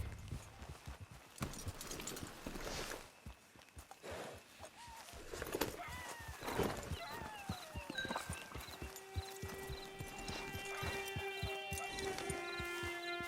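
Horse hooves clip-clop steadily in Red Dead Online, with a whinny and game music rising toward the end; the sounds are fairly quiet.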